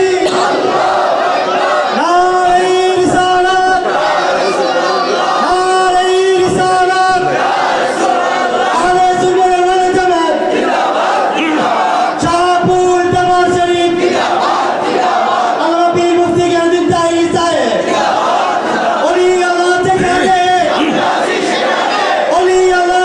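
Mass crowd at a large Eid-e-Miladunnabi mahfil gathering in Comilla town chants takbir in unison with raised hands, loud, sustained, rhythmic responsive chanting in repeated bursts across the whole span.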